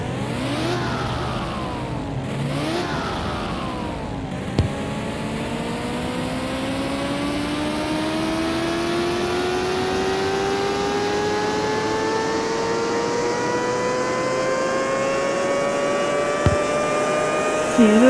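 Pagani Revolucion engine in CMS-21 running up on a dyno, a loud high-revving scream that climbs steadily in pitch over many seconds after a couple of short revs.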